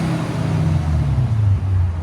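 A 2015 Lexus RC F with its 5.0 engine and APEXi mufflers rumbles at idle, a deep close exhaust burble that dips and settles lower partway through.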